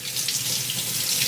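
Cold tap water runs steadily over homemade butter being rinsed in a sink, a continuous close splashing hiss with no talking.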